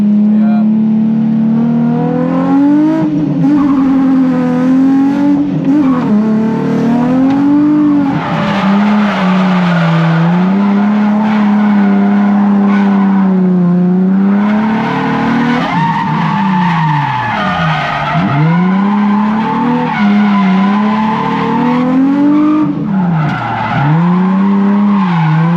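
Car tyres squealing and skidding from overheating while driving hard, a loud sustained tonal screech that rises and falls in pitch continuously across nearly half a minute, close up with engine noise beneath.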